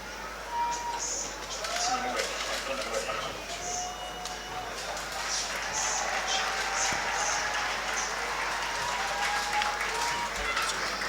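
Parade crowd at an independence celebration clapping steadily, a broad patter of applause from many hands with scattered whistles and voices, fairly loud and continuous.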